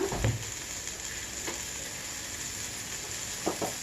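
Onions fry for a cucumber onion curry, a steady close sizzle in the pan with a few sharp stirring scrapes near the start and end, no voices.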